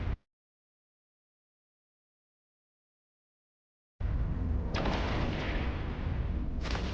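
Artillery fire from EVE Online ships: a short burst at the start, then after a few seconds of silence a loud, sustained roar of blasts with stronger impacts near the end.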